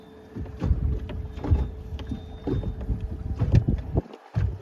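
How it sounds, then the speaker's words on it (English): Gusty wind buffets the microphone on Lake Calaveras during fishing from a boat, a steady low rumble that swells and drops in uneven gusts, with no talking. "that wind is really kicking up"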